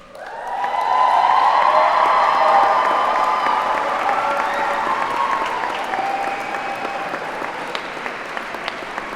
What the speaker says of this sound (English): please applaud your parents